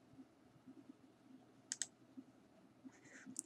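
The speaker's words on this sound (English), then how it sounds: "Click Apply." A few light mouse clicks at a computer while working in ArcGIS desktop software, faint and close, with two quick clicks midway and another near the end over a low hum.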